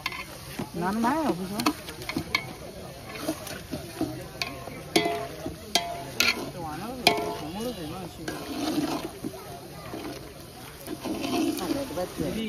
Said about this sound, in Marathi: अद्रक तोरात टाक. त्याला मस्त तर फ्राय करायचं आपल्याला.